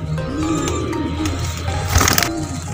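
A black-faced bateira pigeon, a fancy Sialkot breed, gives several low, rolling coos close by in a steady rhythm, broken near the end by a brief louder rustle.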